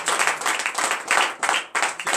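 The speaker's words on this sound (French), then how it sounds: "Donnez encore de vives acclamations." Loud congregation applause during a morning prayer service, dense sustained clapping in several bursts with brief dips between them.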